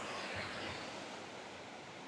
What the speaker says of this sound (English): We're just crossing the stream.